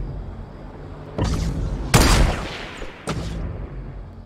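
Frag grenades exploding in the video game Fortnite: three separate booming blasts over a few seconds, the middle one loudest, each fading out with a rumbling tail and no talk.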